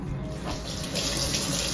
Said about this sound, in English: I wash my hands again